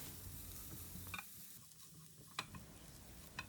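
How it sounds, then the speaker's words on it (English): Finely chopped garlic sautéing in oil over medium flame, a quiet continuous sizzle with a few light scraping stirs of a spatula against the pan, close but soft. "we'll add the finely chopped garlic. And on medium flame, we will saute them until they turn golden brown and aromatic"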